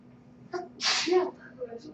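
A single sharp sneeze bursts out close by, preceded by a brief intake of breath and followed by faint murmuring in an indoor setting.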